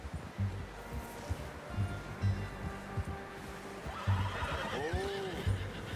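A horse in the Red Dead Redemption 2 game whinnies with a rising and falling neigh near the end, after soft hoof clip-clops and rustling in a quiet outdoor setting.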